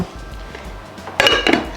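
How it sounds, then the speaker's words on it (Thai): A lid set onto a cooking pot of apricot chicken, a loud close metallic clink and rattle near the end after quiet room tone. "เราก็จะปิดฝานะคะ"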